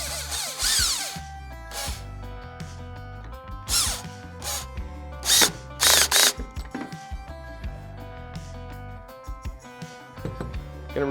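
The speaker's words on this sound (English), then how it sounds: "tighten it down with a screwdriver" Short bursts of a power drill whirring in uneven spurts while fitting an H-bar to a Hobie Compass kayak, with clicks and clatter of metal parts between them, fairly close.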